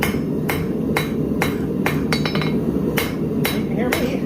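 Hand hammer strikes forging a Viking seax knife blade, roughly eight sharp metallic blows in an uneven rhythm, close and loud over a steady background roar, with a quick burst of lighter taps in the middle.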